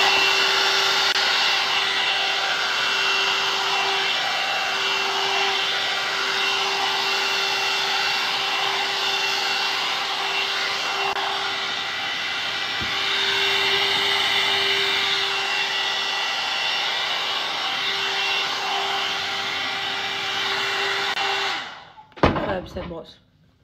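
A hot air brush blow-drying hair hums steadily and loudly close by for about twenty seconds, with a faint voice underneath, then cuts off, followed by a few brief clatters as it is set down.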